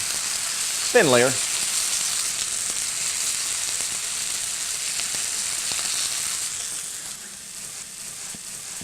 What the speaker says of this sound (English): we'll add our steak, mustard side down.